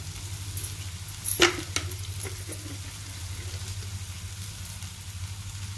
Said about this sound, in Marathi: हा हिंग घालते.